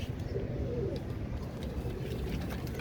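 A pigeon gives a low, soft coo early on, heard against a steady rumbling background.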